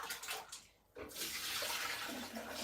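Vegetables rinsed under a running kitchen tap for a healthy lamb meal, a steady broadband gush of water that briefly drops away then resumes strong and continuous, close by with no talk.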